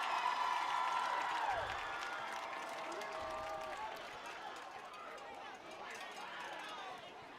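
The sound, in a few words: crowd cheering at a high school football game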